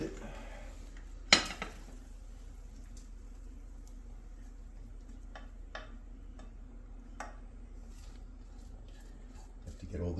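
A spoon scoops pastina out of a pot onto a plate: a sharp metal clank, then scattered soft scrapes and light clinks spaced out over quiet kitchen background.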